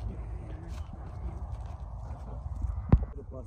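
A young horse's hooves clopping on the ground outdoors: soft, irregular near thuds under a low rumble, ending with a sharper knock near the end.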